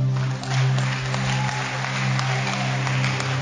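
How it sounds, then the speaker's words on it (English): A church congregation at a worship service claps together, a steady, diffuse patter held over a low droning hum for the whole stretch without pause. "Clap for Jesus."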